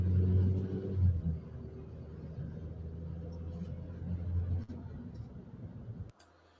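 A car rolls along the road, its engine making a steady low rumble that swells slightly near the start and fades to a quieter hum at the end.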